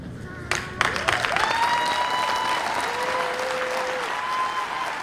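A dog show audience claps and cheers loudly for Beyonce, a dog from Des Moines, Iowa, at Best in Show judging, with tonal whistles sliding over the continuous applause.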